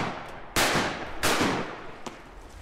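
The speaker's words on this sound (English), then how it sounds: "Shoot that duck." Shotgun blasts at ducks during an old-school slough duck hunt: two loud, sharp reports about half a second apart, each trailing off in outdoor reverb, with a fainter distant shot after.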